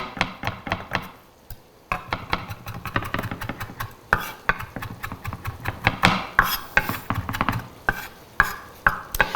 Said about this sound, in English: we want a really nice fine chop on our parsley